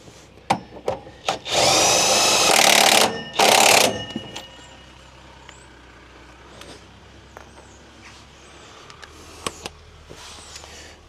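A power drill drives screws during a Crafter Sprinter van upgrade, with two loud sustained whirring bursts near the start followed by scattered clicks and light handling knocks.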